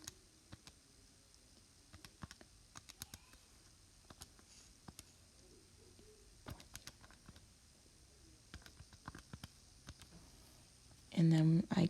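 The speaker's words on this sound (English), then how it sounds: "So we're just going to type this in." Soft clicks of keys being pressed as numbers are entered on a calculator for a math exercise, light irregular taps spaced through a quiet room with a brief louder bump at the end.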